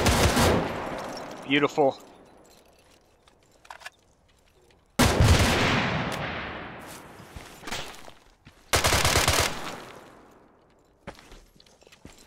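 A frag grenade blast and bursts of automatic gunfire in the ArmA 3 military shooter: a voice speaks briefly at the start, then a loud, close explosion rolls out and fades, and further sharp bursts of fire follow.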